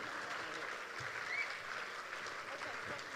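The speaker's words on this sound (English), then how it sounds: "can I get one more round of applause for these two incredible mothers?" Faint audience applause at a JDRF cure event, a soft, continuous patter of distant clapping with a little crowd murmur underneath, holding steady for about three seconds.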